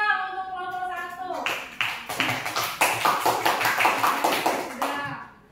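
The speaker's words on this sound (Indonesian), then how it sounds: "Tepuk tangan dong untuk kelompok 1." A classroom of students claps for a group of classmates during a lesson. A lone voice talks at first, then a dense burst of hand claps rises and carries on steadily for several seconds before fading at the end.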